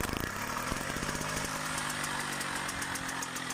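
Solex moped engine fires up at once and settles into a steady, buzzing, high-pitched idle, close and continuous throughout.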